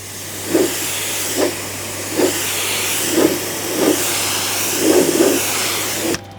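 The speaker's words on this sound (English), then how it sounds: "So we're gonna continue rinsing it down" Water sprayed over a car while rinsing it during an exterior wash, a steady hiss with repeated soft bursts as the spray sweeps across the panels, close and continuous.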